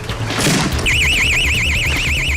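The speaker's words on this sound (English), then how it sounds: "They've tripped the burglar alarm." A burglar alarm sounds during a police forced entry, a loud, continuous warbling siren that starts abruptly after a burst of crashing noise and keeps wailing steadily over low rumbling.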